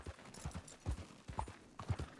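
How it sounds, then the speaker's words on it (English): Horse hooves in the video game Red Dead Redemption 2, a soft steady clip-clop of several evenly spaced hoofbeats at a moderate trotting rhythm, fairly quiet. "And we get on our Horsimus horse."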